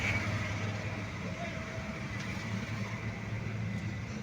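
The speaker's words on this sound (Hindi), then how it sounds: "इंजन कंट्रोल ECM फेलवर में जो वाइब्रेशन हो रही है, मिसिंग चल रही है" A 2015 Hyundai 1.2 MPFI automatic engine with an ECM fault, misfiring and vibrating, runs as a steady, low, close rumbling hum that continues evenly without pause.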